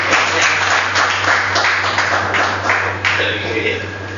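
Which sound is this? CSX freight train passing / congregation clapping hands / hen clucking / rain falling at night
congregation clapping hands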